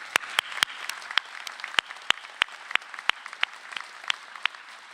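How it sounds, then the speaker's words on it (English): Graduation audience in a high school auditorium applauding: dense, steady clapping from a crowd with sharper individual claps popping out in an irregular rhythm, moderately close and sustained throughout. "so let's give them a round of applause"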